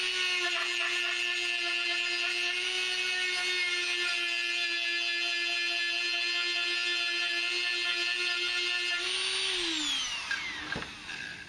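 A Dremel 4000 rotary tool spins with a non-metal bit, a loud, steady high whine held for several seconds before the pitch drops as it winds down, close and alone.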